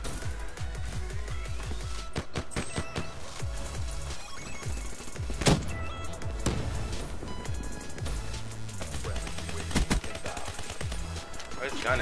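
Rapid bursts of video game gunfire crackle alongside bass-heavy shots and impacts in a fast multiplayer match, loud and near, with some speech mixed in.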